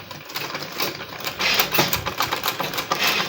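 A manual sewing machine stitches a zipper in fast, rhythmic bursts of close mechanical clatter and ticking, speeding up and pausing briefly, with no voice over it.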